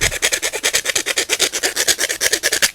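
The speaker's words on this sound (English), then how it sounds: "a little rat tail file like so. I think that would probably work. And just grind that there like that." A small rat tail file rasps rapidly back and forth, enlarging a hole in an AR-15 stock. The strokes are loud, close and steady, about eight per second, with no voices.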